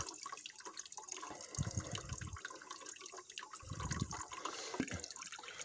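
Water and trapped air spurting unevenly from the bleed valve of a home heating radiator, a steady hiss and trickle broken by two louder gurgling bursts as air pockets escape, heard close and alone.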